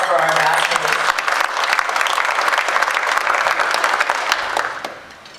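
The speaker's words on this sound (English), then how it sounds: "So we could have a round of applause for our ambassadors." A luncheon crowd gives a sustained round of applause, dense clapping that holds steady and then fades out near the end.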